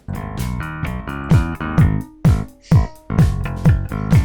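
Dense music mix run through PurestDrive saturation and other effects, thick and loud with repeated punchy hits and sustained tones, peaking near full level with occasional slight overload.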